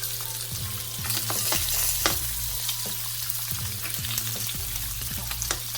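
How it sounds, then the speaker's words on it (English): Sausage browning in a hot pan for baked beans, a steady close sizzle with crackling pops and occasional stirring scrapes, a faint background hum underneath. "So let this sausage brown off and we'll get started."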